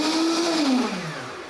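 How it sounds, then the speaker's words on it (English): A kitchen blender whirs through sea moss gel flavoured with bay leaf, its motor steady and loud before the pitch sags and winds down near the end. "blend it up and you're done"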